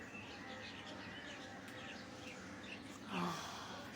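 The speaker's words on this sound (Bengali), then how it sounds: "অনেকগুলো এই যে পাখিরা উঠতেছে" Scattered morning bird chirps over steady outdoor ambience, with a brief louder cooing or flutter-like burst near the end.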